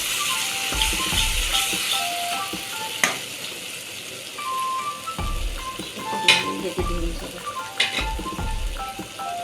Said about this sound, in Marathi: ही प्युरी पण चांगली तेलामध्ये शेकवून घ्यायची